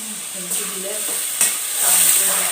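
Chopped onions fry in a pan with a steady, moderately loud hiss and sizzle, broken by a few sharper crackles and stirring scrapes, with no talking.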